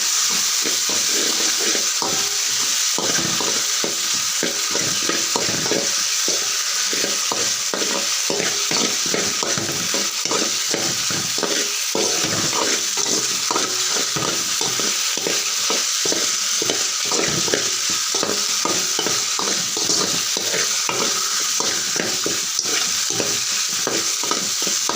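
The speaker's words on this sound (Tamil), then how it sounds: "நல்லா கிளறி விட்டுக்கிறேன்." Pasta stirred in a hot pan with sauce, a loud continuous sizzle and hiss from start to finish, broken by frequent scraping stirs close by, with no voices.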